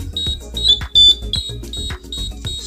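An IC timer beeper circuit, wired together with an incandescent lamp, gives loud, high-pitched short beeps repeating about every half second, close and unbroken.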